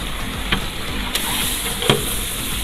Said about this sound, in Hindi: चलो मैं हिला लूँ एक दफ़ा मसाला सारा